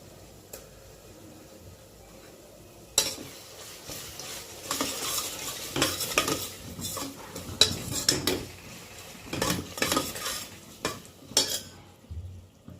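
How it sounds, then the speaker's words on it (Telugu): Ginger paste is stirred and fried in a pan for mutton coconut curry. A utensil scrapes and clatters against the pan in irregular strokes over a soft sizzle. "ఈ అల్లం పేస్ట్ వేసిన తర్వాత ఒక 2 మినిట్స్ వేగాలి పచ్చివాసన పోవటానికి."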